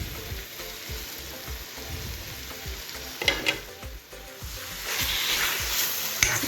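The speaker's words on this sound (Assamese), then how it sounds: "ঘিখিনি দি দিলোঁ, ঘিখিনি মিক্স কৰি দিব লাগিব। ইয়াতে কাটি থোৱা কাজু আৰু পিস্তাখিনি দি দিম।" Carrot halwa fries in ghee with chopped cashews and pistachios, a continuous crackling sizzle with rhythmic scraping stirs from a spoon in the pan, close and steady, brightening toward the end.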